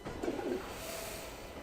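A pigeon coos in the video game Alice: Madness Returns, one short soft burst of cooing early on, followed by a faint ambient hum.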